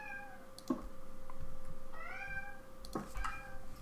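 A Minecraft cat meows in the game, two or three drawn-out, rising mews spaced apart over a quiet, steady background, fairly close and clear with no talking.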